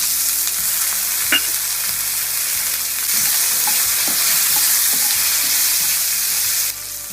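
Soaked peanuts and green chilies with a pinch of salt sizzle loudly in hot oil in a pan. The frying hiss is steady and dense, with a few faint stirring clinks and no voices.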